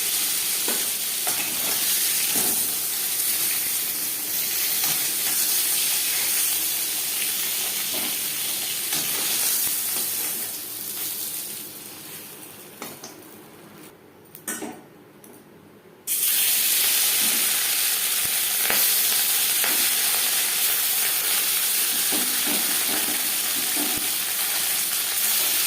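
Pieces of rohu fish frying in oil, a loud, steady sizzle with stirring scrapes, dropping briefly to quieter crackling before the full hiss comes back. No one speaks.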